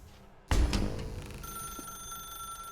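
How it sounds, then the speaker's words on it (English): A telephone rings in The Stanley Parable video game, one loud bell burst starting abruptly and then fading into a sustained ringing tone in a quiet room. "Now pick up the phone,"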